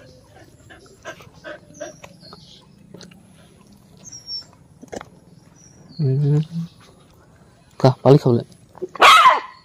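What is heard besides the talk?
dogs whimpering and barking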